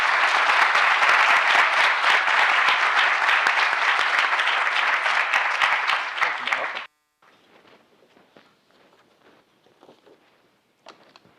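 A large audience applauds loudly and steadily for a guest speaker, Bryan Stockton, at a university's dean's distinguished speaker series, then the clapping cuts off sharply, leaving a quiet room with faint rustles and scattered small noises.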